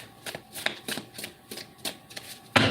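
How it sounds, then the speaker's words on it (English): Tarot cards being shuffled at close range in a run of soft, papery riffles, with a sharper burst of card noise at the very end. "One last shuffle."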